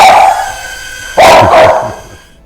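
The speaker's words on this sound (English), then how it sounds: "and my dog will bark." A dog barks loudly and close by: a single sharp bark followed quickly by a second, after a sustained whine-like tone, with no talking.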